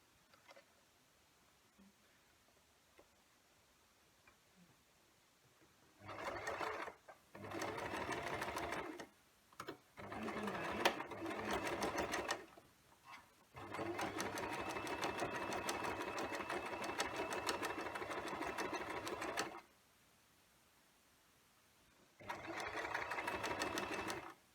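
Sewing machine stitching in several bursts, a fast, steady whirring run of needle strokes that starts and stops, with quiet pauses and small handling clicks between runs.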